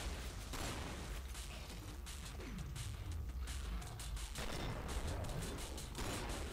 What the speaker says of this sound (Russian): Вот почему я люблю дробовики с подзарядкой по одному патрону.